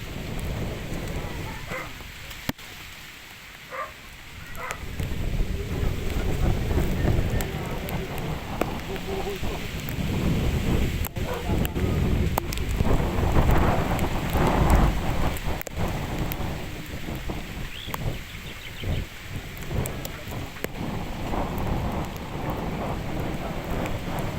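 A strong storm of wind and rain lashes trees, with dense, steady roaring rain and gusts throughout and occasional sharp cracks and knocks as branches break.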